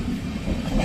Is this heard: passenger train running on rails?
yes